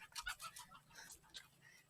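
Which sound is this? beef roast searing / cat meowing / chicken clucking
chicken clucking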